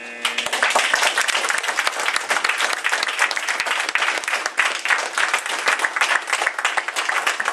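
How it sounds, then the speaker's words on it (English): Audience applause fills a debate-style candidate forum, dense steady clapping from a sizable crowd sustained for several seconds at close range, with no talking over it. "Let's give both of them a round of applause."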